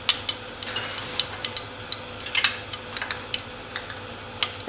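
Cinnamon sticks crackle in hot sunflower oil in a pan, giving sparse, light pops and ticks at an irregular pace over a quiet background, with no voices.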